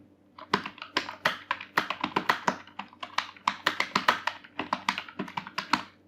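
Fast, uneven keystrokes on a computer keyboard while typing a word in Microsoft Word, close and steady over about six seconds with no speech.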